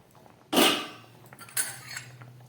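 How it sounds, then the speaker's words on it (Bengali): A metal lid lifted off a cooking pot of simmering lentils and papaya gives a sharp metallic clank, followed by a few lighter clinks and a low background hum. "ঢাকাটা খুললাম"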